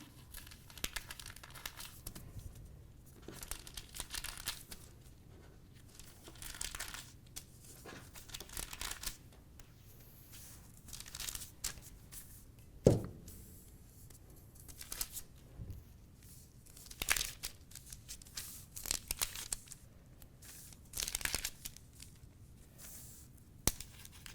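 A paper sewing pattern is cut out with scissors: intermittent crisp crinkling and snipping of paper in irregular bursts, close and fairly quiet, with no talking.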